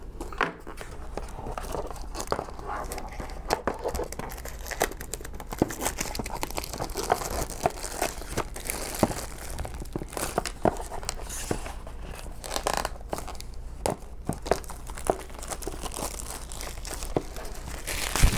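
Cellophane is cut and torn off a 1980s Atarisoft game box with a dull knife, giving close, continuous crinkling and crackling with sharp rips and snaps scattered throughout.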